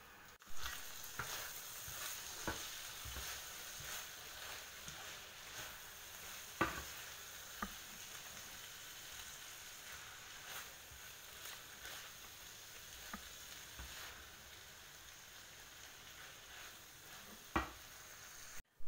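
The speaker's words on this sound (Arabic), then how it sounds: "Lo mezclaré bien, bien, bien y apagaré el fuego." Seafood pastilla filling stirred in a pan over the fire, a steady sizzle and frying hiss running throughout, with occasional sharp scrapes and knocks of the utensil against the pan.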